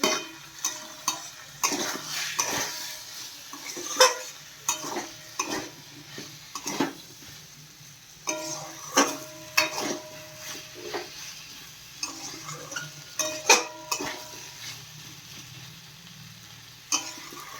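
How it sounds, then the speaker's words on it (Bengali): Chopped tomatoes sauté in a pan for a broccoli and potato curry, with a soft sizzle underneath and repeated close clinks and scrapes of a utensil stirring against the pan in uneven bursts. "দেখো কেটে রাখা টমেটোটা দিয়ে দিচ্ছি টমেটো দিয়েও ভালো করে কষিয়ে নেব"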